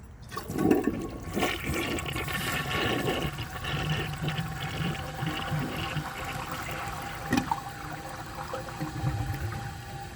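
A 1981 Briggs Conserver concealed-jet toilet flushes with a loud rushing swirl of water that continues steadily, gurgling and draining throughout.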